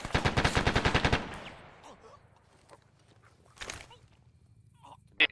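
Close, loud bursts of rapid machine-gun fire from a MG in the military shooter ARMA rattle for about a second, followed by quieter distant shots and a sharp single crack amid faint background noise.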